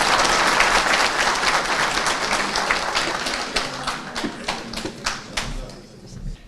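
An audience at a Yörük Türkmen workshop in Antalya applauds for the Antalya metropolitan mayor, dense clapping that thins into scattered, separate claps before fading out.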